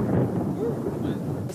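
Low, heavy thunder rolls on without a break during a storm in France that has flooded the streets, a deep, loud rumble under faint wind noise.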